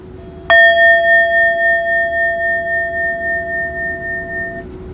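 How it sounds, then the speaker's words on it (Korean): A single bell is struck once and rings out clearly, its bright tone slowly fading with a gentle pulsing shimmer in a quiet room. "종소리도 이거"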